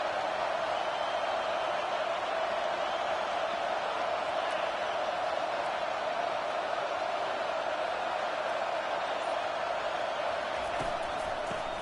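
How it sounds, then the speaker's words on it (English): Steady roar of a stadium crowd in the College Football 25 video game, a dense, even wash of cheering noise that holds without pause for the whole stretch. "This crowd going to try to make life miserable for these guys."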